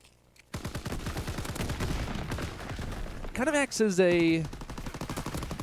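Artillery barrage killstreak in a competitive 4v4 online shooter match: a dense run of loud, rapid gunfire-like blasts and impacts, with a brief whistling sweep midway, while a commentator talks over it.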